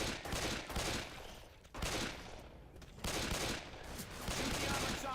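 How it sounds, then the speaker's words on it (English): Rapid bursts of gunfire at armored zombies in Left 4 Dead 2, dense and loud, in three sustained volleys with brief gaps between them. "Shoot the armored zombies in the back."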